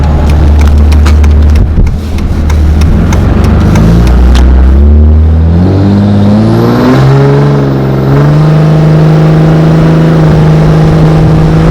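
A 2005 Cummins diesel pickup running in extreme mode accelerates loudly and close, its engine note climbing through several gear shifts with a deep, steady drone that carries throughout.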